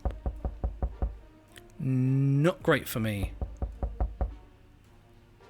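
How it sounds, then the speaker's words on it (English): Repeated knocking in the video game 60 Seconds Reatomized, a steady series of sharp knocks before and after a stretch of speech and game sounds, then fading toward the end. "I hear knocking again."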